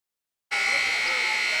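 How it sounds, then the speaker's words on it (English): A sustained electronic buzzer sounds at a high school boys basketball game, starting abruptly after a brief silence and holding steady, loud and alone. "There's the buzzer"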